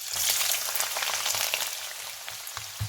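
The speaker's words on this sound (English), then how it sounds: "Take half cup of oil, fry 3 onions" Three onions frying in half a cup of oil for a Yemeni chicken pulao, a steady close sizzle and crackle with small popping bursts throughout and no talking.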